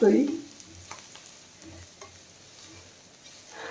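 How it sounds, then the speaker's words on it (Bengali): Spices with half a spoon of turmeric frying in a pan for mushroom galouti kebab, a soft steady sizzle with faint stirring scrapes after a brief louder burst at the start, no talk. "মশলাটা একটু ভাজা ভাজা হলে"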